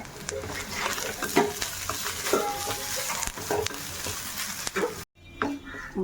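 Grated coconut with curry leaves and fennel seeds roasting in a pan, an ongoing crackly sizzle with frequent scraping stirs, close by, broken by a brief near-silent gap before the sizzling resumes.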